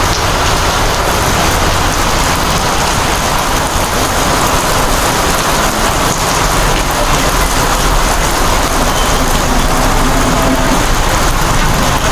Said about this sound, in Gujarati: વરસાદ જામી ગયો છે બહુ જ